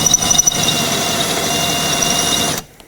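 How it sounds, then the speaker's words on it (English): A drill bit grinds out a rivet on a Volvo V70 door during window regulator replacement, a loud close whining squeal held steady for a few seconds before cutting off abruptly. "now I'm just going to take a drill bit and drill this out"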